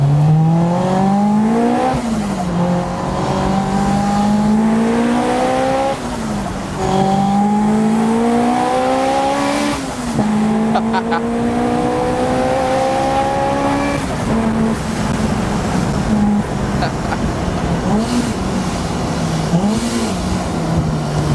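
A Honda Civic Type R EP3 revs hard while driving, the engine note climbing repeatedly through rising pulls with brief dips at each gear change, loud and close from inside the car.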